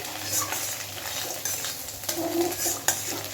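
Teasel gourd mixed with egg fries and is stirred in a pan, with a steady close sizzle and repeated scrapes and clinks of a utensil against the pan; no talk.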